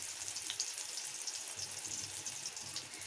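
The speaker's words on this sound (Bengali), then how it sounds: "এখন আমি মাছ আলু টমেটো ভেজে নেয়া সেই একই তেলের মধ্যে দিয়ে দিচ্ছি কুচি করে রাখা পেঁয়াজ।" Chopped onion frying in oil left over from frying fish, potato and tomato, a soft continuous hiss and crackle heard close but faint for a few seconds.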